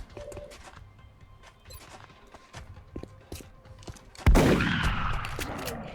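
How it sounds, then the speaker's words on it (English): Gunfire from a shotgun in the XCOM turn-based strategy video game: a few faint taps and small thuds, then one loud close blast followed by a ringing, decaying tail. "the shotguns make us total beasts in close range combat"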